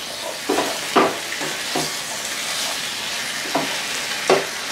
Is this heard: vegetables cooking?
yes